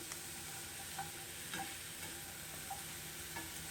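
An omelet fries in a pan with a steady, quiet sizzle, while faint stirring or scraping clicks recur every half second or so.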